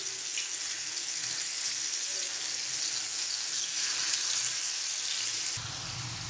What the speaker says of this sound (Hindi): जो हमने चिकन मैरिनेट किया है एक एक पीस उठा के अब हम इनको फ्राई करेंगे